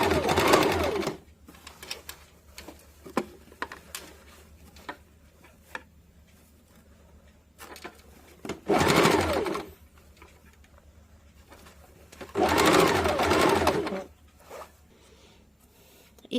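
Short bursts of a sewing machine stitching a boat-neck princess-cut blouse, each run a loud, close whirring clatter of a second or two, separated by quiet gaps with light clicks and handling taps.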